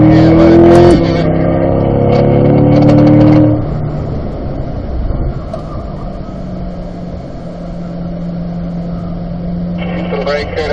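A car laps a race track at a driving school, braking into a corner. The engine drone is loud at first, then eases to a lower, steadier hum while a driving instructor talks over it.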